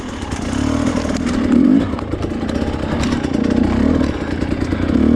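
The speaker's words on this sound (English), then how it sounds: "Now on very slow moving technical rocky terrain, the YZ125 motocross bike" A Yamaha YZ125 motocross dirt bike crawling slowly over technical rocky terrain, its two-stroke engine droning steadily with small rises in revs, loud and close, joined by clattering and scraping from the rocks.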